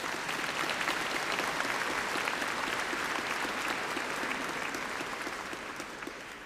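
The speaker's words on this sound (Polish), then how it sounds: "Wielkie brawa dla was." A congregation applauds inside Warsaw's archcathedral during a Mass, a dense sustained patter of many hands that fills the space and slowly fades toward the end, reverberant and fairly distant.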